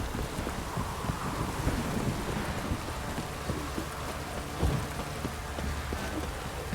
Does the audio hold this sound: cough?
no